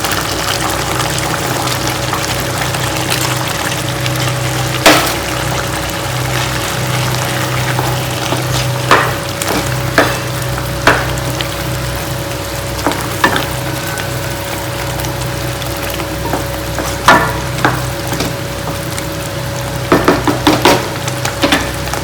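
Sliced mushrooms frying in hot oil in a pan for restaurant-style mushroom masala: a steady, loud sizzle runs throughout, with scattered sharp crackles and pops near the pan and no talking.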